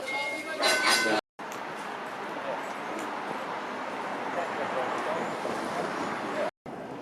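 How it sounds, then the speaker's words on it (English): A rumbling, rattling ride on a vintage tram in Christchurch, New Zealand, steady rolling noise with occasional clinks, briefly cut by silent gaps at the start and end. "About to do a vintage tram tour around Christchurch today."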